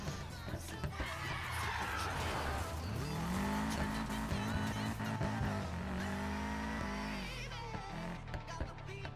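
Car engine roar and tire squeal in the racing video game Need for Speed Payback, a loud continuous revving drone with rising and falling pitch, skids and passing whooshes, with a voice faintly underneath.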